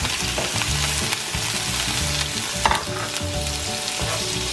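Shrimp sizzle and fry in a hot pan for lo mein with garlic and ginger, a dense steady crackle broken by the scrape and clatter of stirring.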